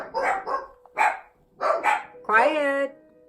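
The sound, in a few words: dogs barking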